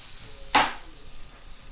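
A steak is flipped back over in a hot pan and lands with a sudden loud hiss of sizzling that quickly fades to a quiet, steady frying crackle.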